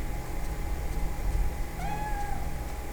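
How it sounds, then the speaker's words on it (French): A cat meows in the horror video game Project Zero 3, a single drawn-out, rising-then-falling call over a steady low ambient hum. "Ah mais c'est un chat? C'est un miaulement."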